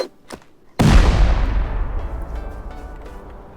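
An explosive charge blows up a wall in the Rust video game: a brief click is followed by one loud, sharp blast that rumbles and fades over several seconds.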